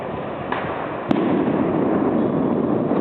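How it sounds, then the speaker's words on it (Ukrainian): Stun grenades go off during street clashes on Instytutska Street in Kyiv: one sharp, loud bang cuts through dense, constant crowd and street noise, preceded by a fainter pop, with no clear speech. "там пішли світло-шумові гранати"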